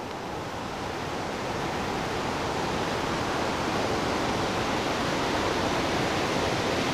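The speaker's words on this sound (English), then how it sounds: "And that river that we were looking at, or brook, or call it what you like, drops about 30 feet here into a kind of mini canyon." Steady roar of a river or brook plunging about 30 feet into a small rocky canyon, a loud, unbroken wash of falling water that fills the whole scene without pause.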